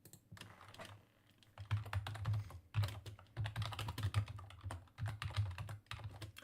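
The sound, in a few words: typing on a computer keyboard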